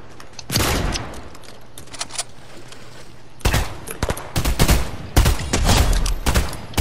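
Gunfire in a Fortnite squad match: loud bursts of rapid shots crack in clusters, with a pause before several heavier volleys follow in quick succession.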